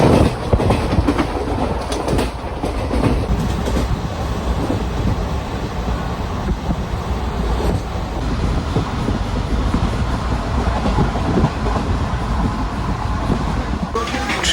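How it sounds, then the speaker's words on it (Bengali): Vistadome coach train running on the Araku line near Kottavalasa Junction, a steady loud rumble with rail clatter throughout, continuous and close. "ট্রেন এসে পৌঁছলো কোঠাভালাসা জাংশনে"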